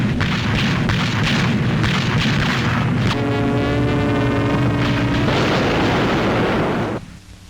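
Anti-aircraft guns firing against a German air attack, with a wartime newsreel soundtrack: dense, continuous booming bursts and blasts under a loud band of music that fades out near the end.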